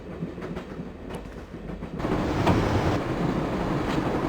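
Rumbling moving train rolling along the tracks in Broken Sword, a steady low clatter that swells louder after a couple of seconds, with faint clicks and no talk.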